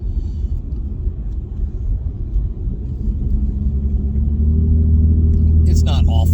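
A 2016 Ford Mustang S550 V6 with its muffler deleted drones from inside the cabin, a deep steady exhaust rumble that swells and grows louder toward the end as the engine pulls harder.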